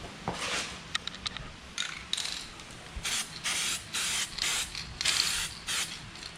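An aerosol can sprays paint onto a car bumper scratch repair in short repeated bursts, close and hissing, each burst separated by brief pauses, after a few clicks of the can at the start; no one speaks.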